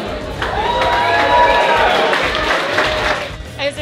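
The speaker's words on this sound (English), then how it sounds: "a round of applause for them" An audience at a latex fashion show cheers and claps for the female performers, a dense crowd roar that stays loud and even throughout, with shouts mixed in.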